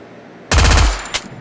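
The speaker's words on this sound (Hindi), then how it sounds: "गोलियों की थोड़ी आवाज़ कर लूँ, ताकि ये देखो ये आया गोलियों की आवाज़ सुन के आया ये।" A short, loud burst of rapid automatic gunfire from the Free Fire video game rattles for a fraction of a second, followed by a faint trailing shot.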